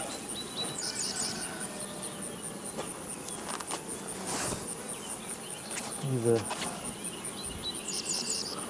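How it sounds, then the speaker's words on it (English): Bees buzz around a small hive close by, with a steady insect drone and occasional louder passes, over faint outdoor background noise. "Their bees are pretty calm this morning."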